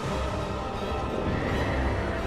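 A horse neighs in a video game amid a loud, steady wash of game audio, the whinny blending into dense background sound with possible hoof clip-clops, and no voices heard.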